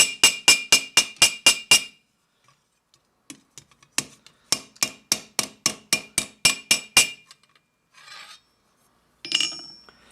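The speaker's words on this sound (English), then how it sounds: "I am going to wind up using the ball peen end." Ball peen hammer riveting a steel Milanese mitten gauntlet in the 1450 style: a rapid run of sharp metallic strikes, then a pause, then a second steady burst of about a dozen close, loud blows, ending with a few faint scrapes.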